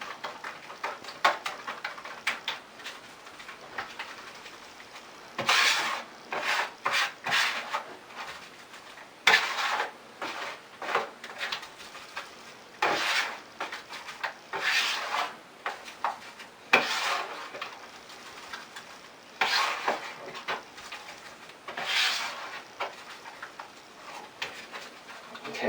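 Drywall setting compound being mixed in a bucket, a run of repeated scraping and slapping strokes that come in bursts with short pauses, close and fairly loud, no talking.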